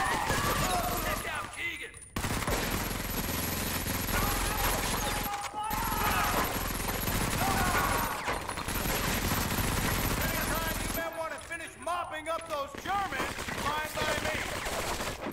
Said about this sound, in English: I wanna get on the machine gun.